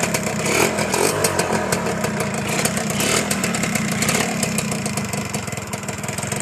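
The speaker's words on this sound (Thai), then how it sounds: "เสียงเครื่องก็จะประมาณนี้นะครับ" A Honda Tena motorcycle engine idles close by with a steady, buzzy mechanical hum and faint rattle, fairly loud and unbroken with no talking.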